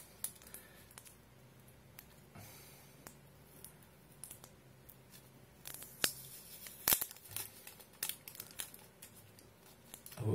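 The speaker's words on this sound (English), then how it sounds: "Then you want to unstick this other piece of tape." Sticky tape peeled off a paper straw for a hoop glider, a few short ripping and crackling bursts, close and fairly quiet, growing busier near the end with no talking.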